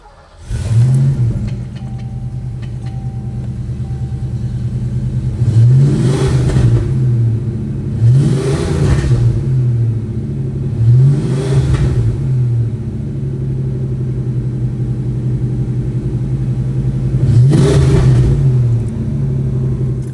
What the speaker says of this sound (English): I'm gonna go ahead and crank it up, let y'all hear it run